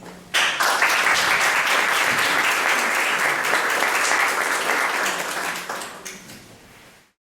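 Seminar audience breaking into a burst of sustained applause, dense many-handed clapping that starts abruptly, holds steady and loud for several seconds, then tapers off and fades to silence.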